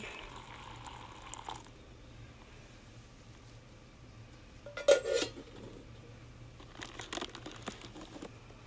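Boiling water splashes and trickles into a crinkly bag of dehydrated beef in a few short bursts, with faint clattering of pots nearby.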